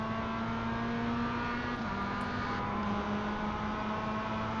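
Mazda MX-5 Cup race car engines drone at high revs in the iRacing game at Summit Point, a steady sustained tone with a slight pitch dip as cars run side by side uphill.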